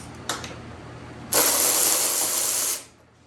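A ratchet spins out the 10mm seat bolts on a 2023 Yamaha YZ250F dirt bike. It gives a couple of brief clicks, then a steady, close and loud ratcheting burr of about a second and a half that stops abruptly.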